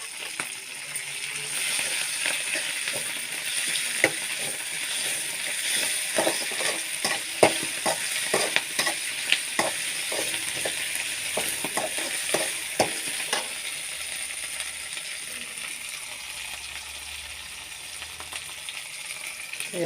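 Ginger garlic paste fries in a pan with a continuous close sizzle, broken by frequent scraping stirs and small pops throughout.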